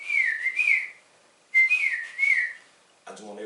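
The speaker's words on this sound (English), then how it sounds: "I'm walking through the woods, and I'm whistling." A person whistles a short wavering tune alone outdoors in the woods at night, two clear phrases separated by a pause, followed by a brief burst of speech.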